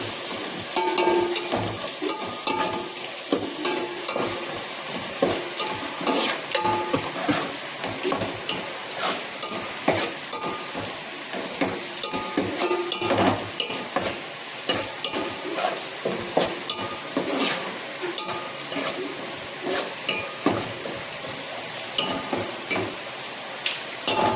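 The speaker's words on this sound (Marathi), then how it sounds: "हा खरडा तुपावरती आपण परतून घ्यायचा आहे" Chili kharda stirred and sautéed in ghee gives a steady sizzle with repeated scraping and stirring strokes throughout, close and fairly loud, with no talk over it.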